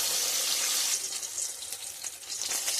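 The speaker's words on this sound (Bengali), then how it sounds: "মাছটা ভালো করে লাল লাল করে ভেজে নেব" Katla fish fry in hot white oil in a wok, giving a steady, fairly loud hiss and crackle throughout with a few brief sharper spatters, no voices present.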